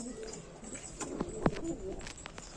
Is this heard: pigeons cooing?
yes